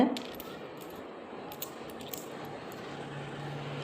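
Old coins clink as they are handled, a clear metallic jingle at the start followed by a few faint light taps under a quiet background hum.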